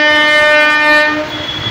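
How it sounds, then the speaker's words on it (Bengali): The last train pulls into Shyamnagar railway station late on a rainy night, its loud horn sounding close and sustained before cutting off, leaving a low rumble. "এখন কিন্তু আমাদের লাস্ট ট্রেন ঢুকছে"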